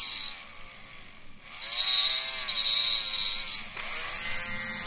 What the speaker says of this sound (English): just stick this right in right now and start drilling away until you reach to the size that you want